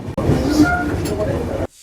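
A Dibrugarh to Secunderabad passenger train crosses a bridge over the Brahmaputra river, heard from on board as a steady, loud rumble of wheels and carriage noise for about a second and a half, with voices in the background.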